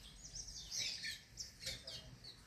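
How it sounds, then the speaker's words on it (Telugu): Small birds chirping around a nest outdoors, a faint cluster of high tweets and short calls repeating over a few seconds, distant and quiet against low background noise. "వీటిని పక్షుల కిలకిలలు వినిపిస్తా అంటే"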